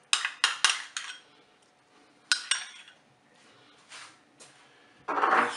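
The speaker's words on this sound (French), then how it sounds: "Je vais ajouter maintenant ma crème fraîche." Crème fraîche goes into a Cookeo pot with a series of close metallic clinks and knocks of a utensil against the pot, then a brief softer scraping burst at the end.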